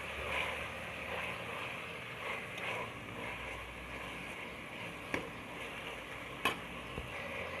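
Tomatoes sautéed with salt in a pan sizzle as a steady, soft hiss, with a few sharp clicks of a spoon or spatula against the pan near the end.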